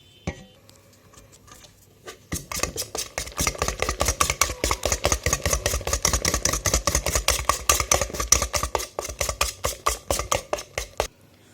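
Urad dal batter is beaten in a mixing bowl with a whisk or spatula: after a brief quiet start, a fast, regular train of close clattering taps against the bowl runs steadily for several seconds, then stops.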